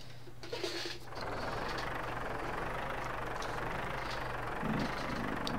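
A tractor engine idles steadily in Turbo Dismount, a low continuous rumble with a faint knocking texture, briefly unsettled at the start and swelling slightly near the end, heard alone.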